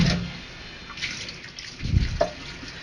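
Canned whole baby carrots are drained and rinsed, with brief splashes and a few drips and trickles of water against a quiet background, close by.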